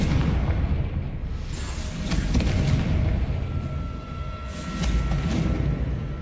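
Spell blasts of Bombarda and Confringo in the video game Hogwarts Legacy, a dense rumbling roar of repeated explosive bursts with sharp cracks, loud and sustained, swelling again toward the end.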